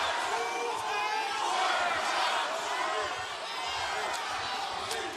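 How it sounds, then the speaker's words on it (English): A wrestling arena crowd in Savannah roars and chants Hardy's name during a Swerve Strickland versus Jeff Hardy match, a distant, sustained wash of voices heard faintly. "You can hear this great crowd on hand in Savannah. They are fired up for this one. Great crowd chanting Hardy's name."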